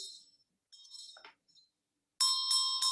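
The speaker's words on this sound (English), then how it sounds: "Okay, now with the bell." A ritual hand bell in Tibetan Buddhist practice, struck once to give a bright, sustained ringing tone with a wavering shimmer after a few faint metallic taps and clinks.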